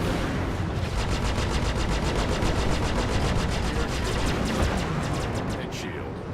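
Rapid, loud machine-gun bursts pound a ship in Star Citizen Arena Commander space combat, continuous sustained automatic fire with dense repeating impacts throughout, easing slightly at the end.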